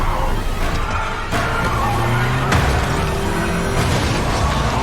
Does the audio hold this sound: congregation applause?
no